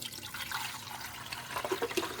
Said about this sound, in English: We're going to be putting vinegar in it right now.